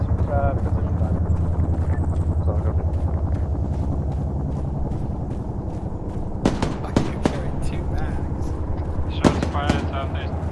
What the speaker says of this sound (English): Shots fired southeast.